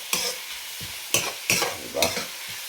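Garlic, onion and tomato sauté in a pan, a steady sizzle broken by several sharp scraping stirs of a spatula, close and fairly loud, with no talking.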